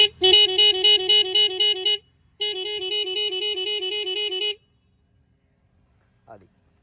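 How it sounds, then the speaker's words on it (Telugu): An aftermarket melody horn on a Hero Splendor Plus motorcycle plays a loud, close electronic tune of repeated stepped tones in two bursts with a short gap between them. A brief voice follows near the end. "దాని తర్వాత మెలోడీ హార్న్స్ అయితే వేశారు."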